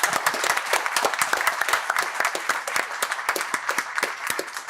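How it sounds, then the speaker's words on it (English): Sustained audience applause for a university Chancellor at a Berkeley panel event, dense rapid clapping from a sizeable crowd throughout, steady and fairly loud with no talk. "I'd like to give the Chancellor one more round of rousing applause"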